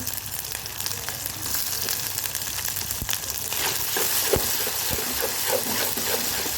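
Onion paste fries in oil in a pan during home cooking of khichuri and chicken bhuna, making a steady close sizzle that grows slightly louder, with occasional stirring clicks and no speech.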